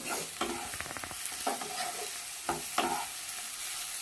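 Softened onions frying in a pan for a mutton curry, stirred with a utensil: a steady sizzle runs underneath several quick scraping strokes against the pan.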